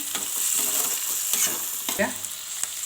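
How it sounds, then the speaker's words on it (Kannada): Onions and vegetables for Schezwan fried rice fry in a pan with a steady close sizzle, while a few scraping stirs and clinks break through the crackle. "ಈರುಳ್ಳಿನೇ ಇನ್ನೊಂದು ಸ್ವಲ್ಪ ಫ್ರೈ ಆಗುತ್ತೆ"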